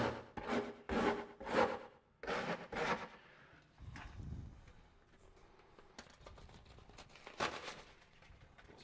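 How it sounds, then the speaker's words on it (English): Thinset is spread with a 1/8 by 1/8 inch square notch trowel around a shower valve: rhythmic scraping strokes, loud at first, then softer, gritty smears. "So you basically just want to thin set this on."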